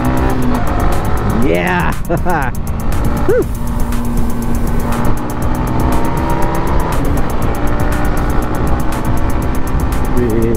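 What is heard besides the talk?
Yamaha XSR 155 motorcycle engine during test ride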